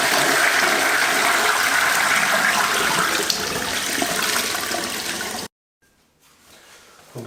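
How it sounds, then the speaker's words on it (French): A newly installed wall-hung toilet flushing, a loud rushing surge of water lasting about five seconds, cutting off abruptly and followed by a quiet trickle as the cistern begins to refill. "Après, tu peux tirer une chasse d'eau."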